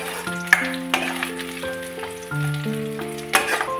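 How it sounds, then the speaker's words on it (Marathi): Minced garlic sautéing in a pan with onion already fried golden brown, a steady sizzle with a few scrapes and stirs, alone with no talk; faint tonal hum running underneath. "त्याच्यामध्ये आपण टाकूया लसूण आणि लसूण सुद्धा परतून घेऊया।"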